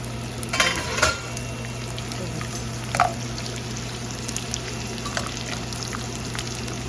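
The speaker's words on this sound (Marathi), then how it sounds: "लो मिडियम गॅसवरती तळायचं आहे डिंक पण." Steady low frying sizzle with soft bubbling as edible gum fries in ghee over low-medium gas, punctuated by a few brief clinks and stirring sounds near the start and middle.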